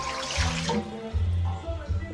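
Warm water, microwaved first, is poured into a pizza dough mix in a kitchen, a brief rushing pour near the start that gives way to a low hum and faint handling sounds.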